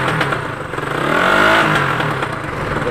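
A Suzuki Rider 150 motorcycle engine revs up from a rough idle, rises to a brief peak, and settles back down, close and fairly loud.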